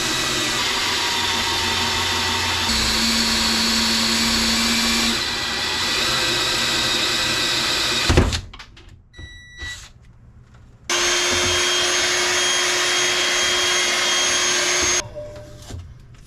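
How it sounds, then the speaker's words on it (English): A power drill bores a new hole inside a 36-foot sailboat's galley, running loud and steady for several seconds, pausing, then running again in shorter bursts. "New hole is drilled."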